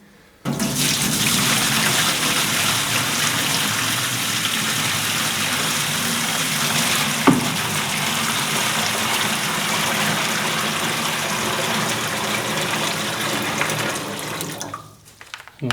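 Clean hot water pours steadily into a new parts washer in a workshop, a continuous loud rushing stream running without a break for about fourteen seconds before stopping.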